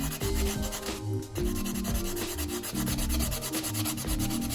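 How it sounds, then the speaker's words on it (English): A wooden pallet heart craft being sanded by hand to remove sharp edges, a loud continuous rasping rub with steady back-and-forth strokes, close up and with no talking. "So we're gonna sand this down"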